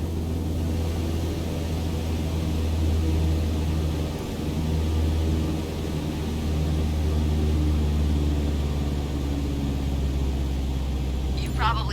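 Single-engine aircraft in Microsoft Flight Simulator with the throttle eased back to 1,800 RPM, a steady loud engine drone that softens slightly partway through, under a voice.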